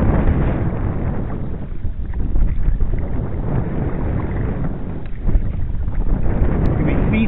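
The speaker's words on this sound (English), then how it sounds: "we kayak in the wind" Wind gusts buffet the microphone continuously while kayaking on open water near an oyster bed, a loud, steady rough rumble with small swells and no clear pauses.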